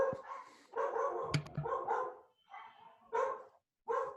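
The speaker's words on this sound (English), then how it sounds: "sorry, dogs in the background" Dogs barking in the background of an indoor setting, several loud bursts of barking and yips in quick runs with short pauses between them.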